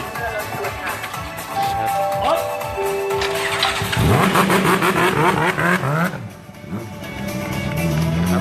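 Honda racing motorcycles from a Suzuka 4-hour endurance race simulation rev and rumble near the pits, with engine notes rising and falling and one machine sweeping past loudly midway, heard under continuous talk.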